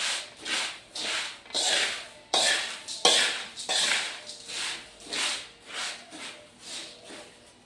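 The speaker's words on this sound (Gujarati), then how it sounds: "હવે બધું મિક્સ કરી દઈશું." Spiced puffed rice (mamra) with masala being stirred and tossed in a bowl, rhythmic rustling scrapes repeating about every half second, close and steady with no talk.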